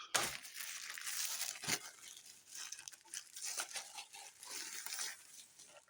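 Plastic packaging around a Soundcore Motion Boom portable speaker crinkles and rustles continuously up close, quiet but busy handling noise with small crackles and no talking.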